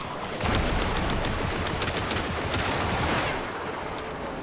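A steady, loud stream of rapid gunfire from a low-recoil weapon in Warframe keeps going for several seconds with no speech, then thins slightly near the end.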